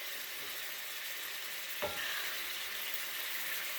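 Ground beef frying and browning in a pan over high heat, a steady close sizzle that fills the whole clip with one brief scrape of stirring partway through, and no voices.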